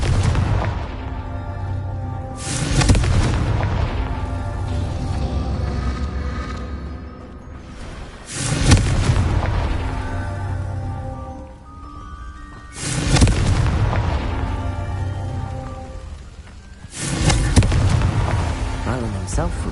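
Repeated blasts of the Confringo explosion spell in Hogwarts Legacy, four loud booming bursts spaced a few seconds apart over game music and rumble.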